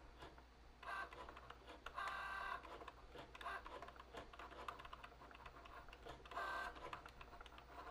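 A Cricut Joy cutting machine draws a design, its small motor whirring and ticking in short repeated bursts as the carriage moves, faint and close, with no voices.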